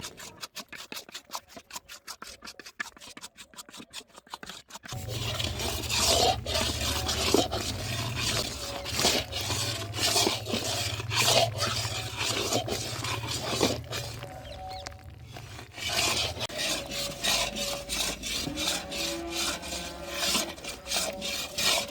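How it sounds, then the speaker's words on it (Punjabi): Wheat flour roasting in linseed oil for Punjabi atta panjiri is stirred and scraped with a spatula, making soft, near, rhythmic rubbing and scraping strokes. A few faint clicks come first, then the steady scraping begins. "ਜਦੋਂ ਹੀ ਆਪਾਂ ਅਲਸੀ ਦੇ ਤੇਲ ਵਿੱਚ ਆਟਾ ਇਦਾਂ ਭੁੰਨ ਦੇਾਂਗੇ"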